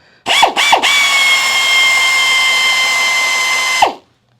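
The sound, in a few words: riveting a metal column drop with a rivet tool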